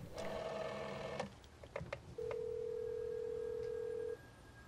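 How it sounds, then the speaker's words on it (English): Several short beeping tones from a telephone keypad dialing a hotel reception, then a steady electronic ringing tone held for about two seconds before stopping. "Now he picks up the telephone and he dials the reception."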